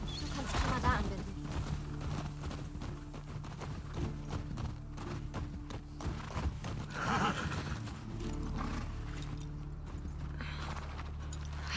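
Nervous horses in The Last of Us Part II video game whinny loudly several times, with clip-clopping hooves and shuffling beneath the calls and a voice speaking at moments.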